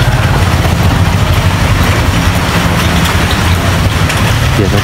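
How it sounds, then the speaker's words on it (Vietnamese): Heavy rain falls outdoors in a dense, loud, unbroken hiss, with a low rumble underneath and no talking. "mình đang dầm mưa để quay ở ngoài này."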